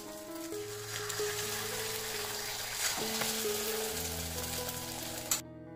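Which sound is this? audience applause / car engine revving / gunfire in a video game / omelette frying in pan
omelette frying in pan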